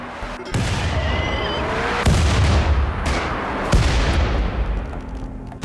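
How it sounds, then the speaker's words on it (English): Mortar artillery strike in the RimWorld video game landing on a group of mechanoids: a series of heavy booming blasts, with three or four big hits spread over a continuous rumbling barrage. "The initial artillery strike wipes out a good chunk of the mechanoids"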